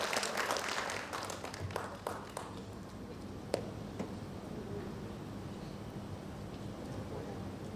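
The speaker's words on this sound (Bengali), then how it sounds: "আরও একবার জোরে করতালিটা হোক, হ্যাঁ, করতালি যেন চলতেই থাকে" Audience applause at an evening musical stage event at Madhusudan Mancha: a crowd claps steadily, louder at first, then thins into a softer, more distant patter.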